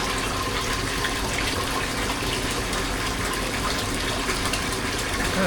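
Water sprays hard and steadily from both sides into a 900-gallon aquarium tank being filled in a small room, a loud, continuous hissing gush with no talking.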